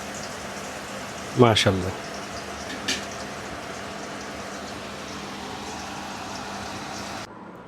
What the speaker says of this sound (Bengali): আগে ম্যারিনেট করে বেগুনটা কতক্ষণ রেখে দিছি আমরা, এখন আমরা গরম তেলে ছেড়ে দিব